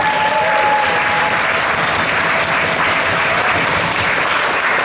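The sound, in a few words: wedding guests applauding the ladies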